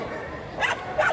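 A dog at a Friday puppy market gives two quick, sharp barks close by, with yelping overtones against a murmur of background noise.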